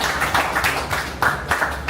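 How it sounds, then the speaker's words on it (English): Applause from a modest gathering at an informal coffee meetup, with clapping that swells in irregular pulses over a steady background murmur and stays moderately loud. "Round of applause for him,"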